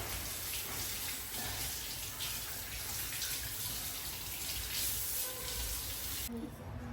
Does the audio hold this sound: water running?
yes